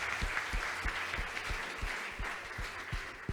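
An audience at a retail customer-satisfaction awards ceremony applauds the podium winners, with steady crowd clapping and a few sharp, distinct claps standing out rhythmically near the microphone.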